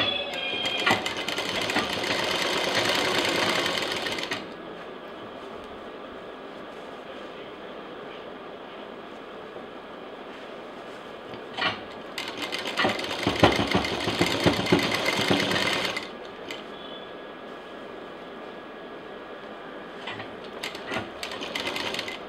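An electric sewing machine stitches a belt onto a backpack in two bursts of rapid, steady whirring and needle chatter, the first about four seconds and the second about four seconds later, with quiet pauses around them.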